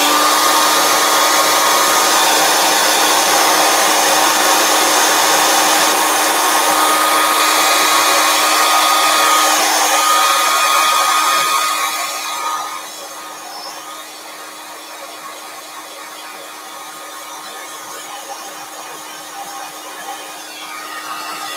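Revlon hair dryer blowing close and loud with a steady whooshing roar and a faint tonal whine, dropping to a lower, quieter setting about two-thirds through and continuing alone.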